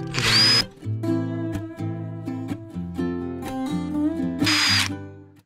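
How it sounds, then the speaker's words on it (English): A power drill spins a brass wire wheel against rusty rear brake parts on a Mitsubishi Delica, with a loud whirring tool tone and short bursts of harsh brushing as the wheel bites, close and alone. "use our wire wheel. This is a brass, and I'm going to clean all this rust over here before we put it in."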